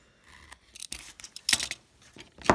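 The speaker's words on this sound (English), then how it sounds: "Take my scissors and now I'm going to cut it like this." Scissors snip through material while building a hidden compartment box, several sharp close cuts in an uneven rhythm with no talking.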